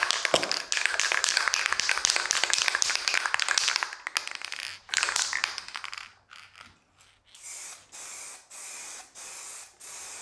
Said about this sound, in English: Again, a good shake. We're not mixing any solids in here. We're mixing the propellant in to make sure it's going to spray properly.